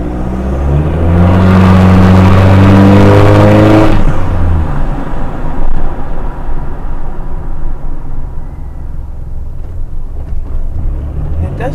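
A Mitsubishi Triton pickup fitted with a full exhaust roars loudly up close as it pulls away, the deep engine note rising through a few gear shifts before settling into a steadier, lower drone as it drives on.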